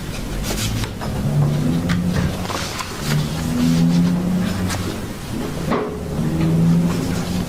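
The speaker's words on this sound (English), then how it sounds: "why are there really loud traffic sounds inside of a courtroom?" Loud traffic outside a courthouse carries into a courtroom, with cars revving and passing in repeated surges, moderately near and continuous.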